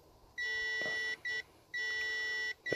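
Klein MM400 multimeter giving its continuity beep while testing an 1157 bulb: loud, steady electronic tone sounding in three bursts of differing length, close up, with no talking.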